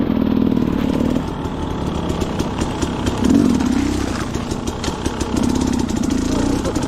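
Dirt bike engine idling in rain on a muddy mountain trail, a steady close-up rumble with slight surges in revs throughout.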